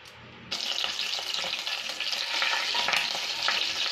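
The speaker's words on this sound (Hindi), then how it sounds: "जीरा डालेंगे, करी लीव्स डालेंगे और उसे भूनेंगे।" Cumin seeds and curry leaves frying in a hot pan, a steady close sizzle that starts abruptly and holds loud and even, with faint stirring scrapes and no speech.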